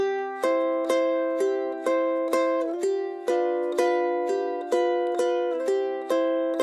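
A ukulele strums bright chords in a steady, gentle three-four lilt, each strum ringing and fading before the next; close and alone.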